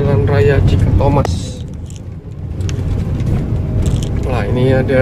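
A Cendana intercity bus on the Tasik–Cikalong road rumbles past with a steady engine drone and road noise, heard close from inside a travelling vehicle, with voices talking over it.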